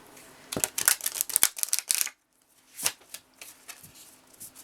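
Thick oracle cards riffled and shuffled in quick bursts of crisp slapping and flicking, with a short pause before a few more sporadic shuffles.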